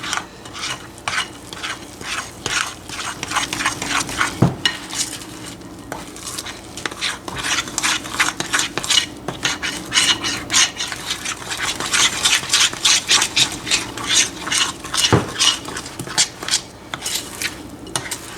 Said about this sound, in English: this batter will be a little bit lumpy. You don't want to over stir it.